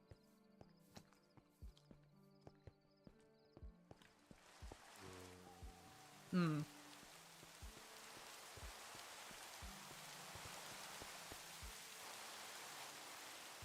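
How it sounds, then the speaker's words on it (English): Steady hiss of rain falls in a video game, starting partway through and building to a dense, even wash after sparse taps and clip-clop footsteps. "Was not expecting it to rain."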